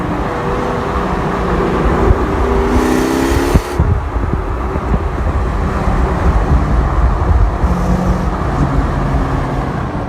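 A 2001 Ford Mustang GT engine and exhaust, a loud, steady low rumble with brief revving swells, heard close up without talk.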